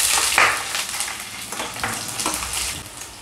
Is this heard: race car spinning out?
no